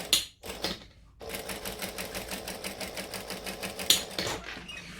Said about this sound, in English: I'm stitching a little bit slower with this because I don't want to go too far